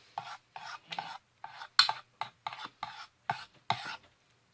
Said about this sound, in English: my sister's gonna mix that up real good